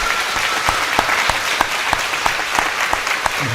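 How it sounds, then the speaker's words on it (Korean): Congregation applause at a church service, a steady, dense clatter of many hands clapping together, loud and unbroken with no talk over it. "큰 박수 하겠습니다. 박수합니다."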